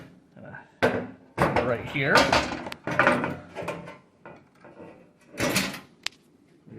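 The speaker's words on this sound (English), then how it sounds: "So now I'm going to take this door off" Metal door being taken off a Potter PFC-4410 fire alarm panel: a series of sharp clanks, knocks and rattles at irregular intervals, with someone talking between them.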